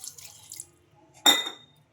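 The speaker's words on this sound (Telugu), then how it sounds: "కొద్దిగా వాటర్" A brief splash of water poured into a mixer jar of chutney ready for grinding, a short clear burst after near silence, nearby and fairly loud.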